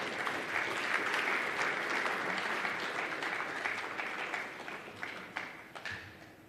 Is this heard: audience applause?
yes